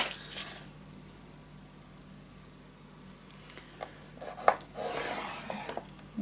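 Paper for a travel-suitcase craft project is scored with a tool in several short scraping and rubbing strokes, quiet and close, with pauses between them and a couple of louder rasps near the end.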